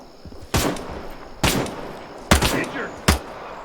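Four sharp, loud pistol shots from an FN Five-seveN in a video game, spaced irregularly about a second apart, each a hard crack with a short ringing tail over faint background game noise.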